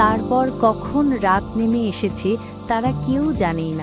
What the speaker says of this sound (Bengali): চারিদিকে ঝিঝি ডাকছে